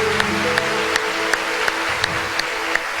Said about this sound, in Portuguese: Pode aplaudir a obra de Jesus na sua vida.